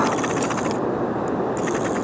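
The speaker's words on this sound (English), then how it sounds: "Reel's getting a little sticky." A cheap auction-bought fishing reel with a sticky, loose mechanism being cranked, giving a fast ratcheting, clicking whir in quick bursts, close and clear with no talking.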